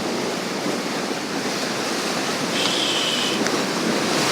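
Rough sea surges against a rocky shore before dawn, a loud, unbroken roar of waves and heavy swell that builds slightly toward the end, with no voices.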